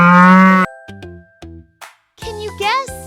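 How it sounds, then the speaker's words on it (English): A cow moos once, loud and drawn out, then someone speaks over light jingling tones and music. "It's a cow! Moo!"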